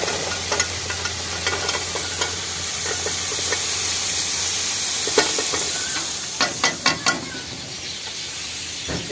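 Cauliflower tipped into a pot and stirred over a village cooking fire, a steady frying sizzle and hiss with scraping strokes of the spoon, ending in a short run of sharp knocks.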